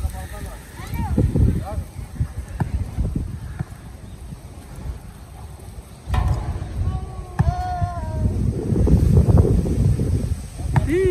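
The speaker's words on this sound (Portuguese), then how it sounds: "Olha o vento que tá, olha aqui." Wind gusts buffet the microphone outdoors at a park with a basketball court, loud rumbling bursts rising and falling while people talk throughout.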